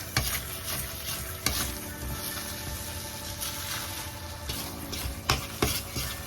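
A spoon scraping and stirring thick biko of wild rice cooking in coconut milk in a pan, with soft sizzling underneath and several sharper knocks against the pan, close and quiet.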